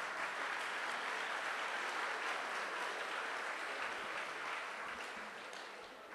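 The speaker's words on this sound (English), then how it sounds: "I think perhaps we'll keep the clapping then at the end" An audience claps throughout a campus gathering at St. Xavier's College in Mumbai. The applause is dense and fairly distant, and it holds steady before fading slightly toward the end, with no voices over it.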